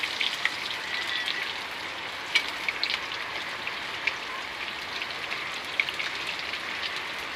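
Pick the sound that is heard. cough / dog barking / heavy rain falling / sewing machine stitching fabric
heavy rain falling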